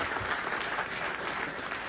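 Audience at Hajj House applauding for poet Abrar Kashif at the launch of his nazm, a steady, dense burst of clapping from many hands throughout the short moment.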